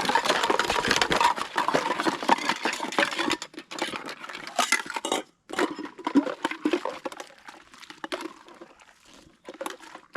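Dishes clatter and slosh in soapy water inside a camp washing bag being spun, a busy rattling wash that tapers off and breaks into a few scattered knocks.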